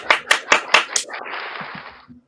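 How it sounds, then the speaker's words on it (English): Applause for the Graham and Bob Show: a handful of loud, close hand claps in quick succession, then a short burst of crowd cheering that fades out. "round of applause for the Graham and Bob Show"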